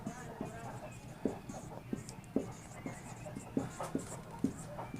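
Chalk strikes and scratches on a board as a Hindi-medium maths lesson on successive discount is written out, with sharp taps at a steady rhythm over a quiet room and muffled background voice.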